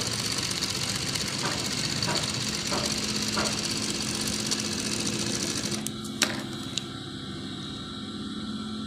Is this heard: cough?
no